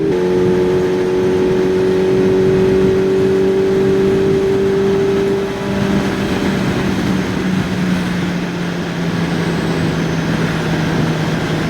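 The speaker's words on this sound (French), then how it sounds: "cette moto s'exprime vraiment quand elle est dans les tours" A QJ Motor SRK 421 RR four-cylinder motorcycle engine revving high on the road, a loud sustained wail whose pitch rises and then settles into a steady drone with heavy wind rush.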